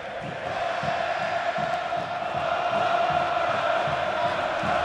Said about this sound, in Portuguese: A torcida do Internacional não para de cantar, a torcida do Corinthians não para de pular.